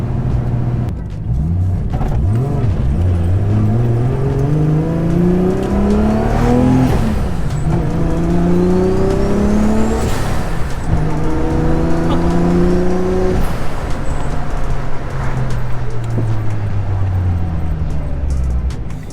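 A Nissan S14 swapped to a 1JZ engine with a CD009 gearbox pulls hard through repeated turbo revs, rising engine pitch climbing through several gear changes, loud and close from inside the car, with occasional whooshes.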